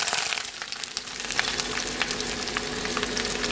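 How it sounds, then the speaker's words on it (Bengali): Chopped onions and chillies fry together in hot oil, a dense close sizzle with scattered crackles and light stirring, continuous and fairly loud throughout, with no talking. "এবার কেটে রাখা পেঁয়াজ আর লঙ্কাটা একসঙ্গে আমি ভেজে নিই"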